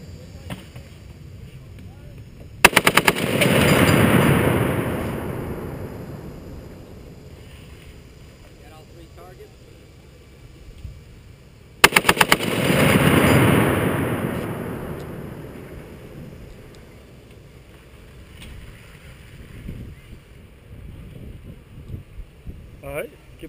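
An M2 .50 caliber machine gun fires two loud bursts of rapid shots, each followed by a long rolling echo that fades slowly, with outdoor wind noise between them.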